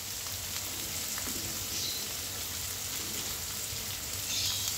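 Onions and peanuts frying in a pan with salt, a steady close sizzle with faint scraping as they are stirred, no talking.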